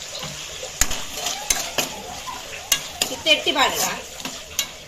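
Prawns fry in a pan for Tulu-style prawn sukka, with sizzling under sharp, repeated clinks and scrapes of a spoon stirring against the metal, and a few brief spoken words in between.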